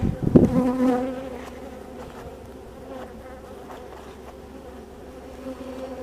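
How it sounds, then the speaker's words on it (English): Bees buzz around a beekeeper at an open hive, starting with a loud close buzz as one passes right by, then a softer steady hum of the swarm lingering nearby. "it sounded like that bee was in my veil."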